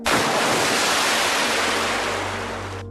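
Steady broadband rush of a river's flowing water, loud and close, continuous for the whole stretch and easing slightly toward the end, with no voices.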